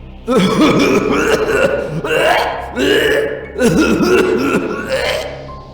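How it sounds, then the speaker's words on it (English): Strained, gagging retches and coughs come in several heaving waves, loud and close, with guttural throat sounds between them. "He started coughing and retching."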